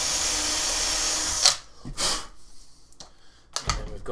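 A power drill driving small self-tapping screws into a craft build, with a sustained whirring burst up front, then shorter separate bursts after pauses.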